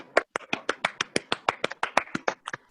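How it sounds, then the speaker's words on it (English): Sparse applause at a virtual sports day, about a dozen crisp claps in an even rhythm, close and distinct with brief silences between them. "Can we have a huge round of applause for her?"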